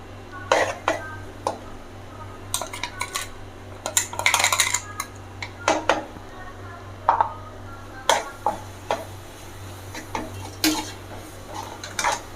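Ground chana dal is stirred into melted jaggery in a pan for kozhukattai, with a spoon scraping and clinking against the metal in irregular taps over a faint steady hum, along with a few coughs.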